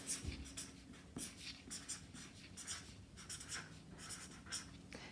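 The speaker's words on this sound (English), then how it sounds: "First of all, I'll write this out." A pen or marker writes by hand in a quiet room, a steady run of soft, close scratching strokes with short pauses between words.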